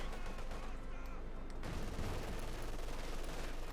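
MG-42 machine gun firing on penal troops in the open in the strategy game Company of Heroes 2: continuous rattling bursts and scattered battle gunfire under a commentator's talk.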